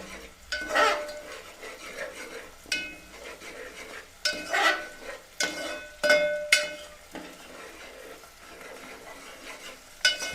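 Food is roasted and stirred in a pan, a soft sizzle broken by a series of scraping, clinking strokes of a utensil against metal at uneven intervals, close and moderately loud.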